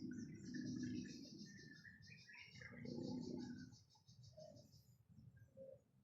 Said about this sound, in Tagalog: Listen to the sound of the birds.